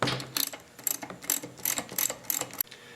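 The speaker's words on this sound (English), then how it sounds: "Now take your spark plug wrench and remove the spark plug." A spark plug wrench works a spark plug out of a Stihl engine, giving a series of close ratcheting clicks in short bursts with brief pauses between them.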